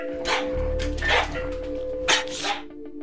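A guarding dog being corrected during a training session barks in four sharp, close bursts over a low steady hum.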